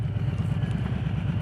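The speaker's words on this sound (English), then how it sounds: "So that's what I use to capture the exhaust." Harley-Davidson Low Rider S motorcycle exhaust recorded on a night ride, a steady low rumble that drones evenly throughout with no talking.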